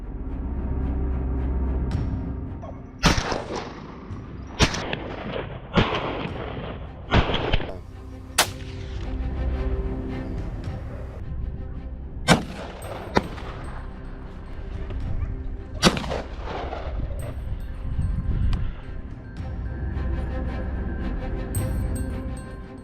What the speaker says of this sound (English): The AR-15 gun, with its high accuracy and power, has become a useful tool in wild boar control.